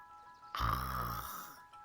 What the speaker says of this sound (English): They try to make a snoring sound.